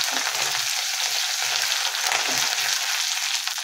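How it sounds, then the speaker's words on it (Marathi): Garlic paste sautéing in a hot pan with oil, a steady close sizzle with faint stirring scrapes, no voices. "लसूण पेस्ट घेतलेली आहे. ही थोडीशी परतून घ्यायची आहे."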